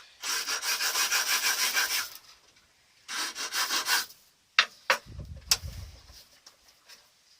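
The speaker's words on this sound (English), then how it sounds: "I'm just going to keep going around until we get a good few dints, scrapes in it so it grips good." A metal scraper rasping and rubbing over a ferro rod in a knifemaker's workshop, two long rhythmic bursts of repeated strokes followed by a few sharp isolated scrapes and taps, close and fairly loud.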